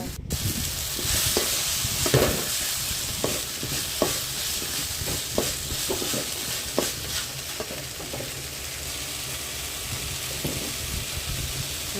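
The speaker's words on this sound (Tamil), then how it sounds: "பச்சை வாசம் போகிற வரைக்கும் சிம்மில் வச்சு நல்லா வணக்கிட்டே இருக்கணும்" Ridge gourd chutney sautéing in a pan over a low flame, a steady sizzle with repeated rhythmic stirring scrapes and knocks throughout, close and alone.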